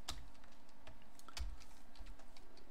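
Keys clack on a computer keyboard as a command is typed at a FreeBSD/TrueOS terminal, a quick irregular run of soft, close taps with short pauses between them.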